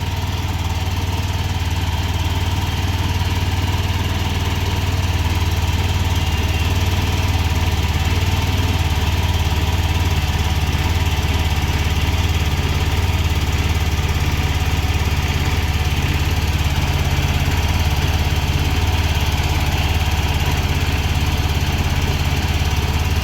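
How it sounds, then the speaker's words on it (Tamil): Vehicle engine idling steadily just after being started outdoors, a loud, continuous low rumble close by with no change in pace and no talking. "இப்போ வண்டி ஸ்டார்ட் பண்ணிட்டோம்"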